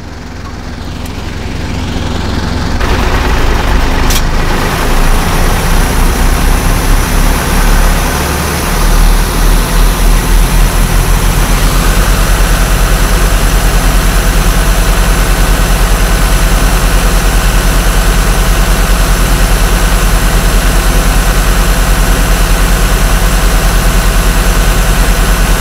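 A FUSO diesel truck engine runs steadily through DPF regeneration, a loud continuous low rumble and hum that swells after a brief click and then holds at a constant, slightly raised pitch with no talk.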